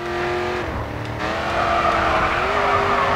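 A Ford Mustang in the racing game Grid 2 drifts through a corner, its engine droning steadily while the tires squeal in a sustained whine, loud and close, with the engine pitch dipping and rising again.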